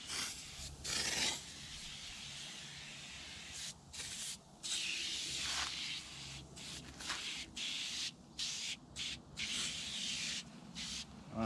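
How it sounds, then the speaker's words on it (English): Oven cleaner sprayed onto a car wheel, a steady close hissing spray running in long bursts with short pauses between them, no talking. "That one's all sprayed up."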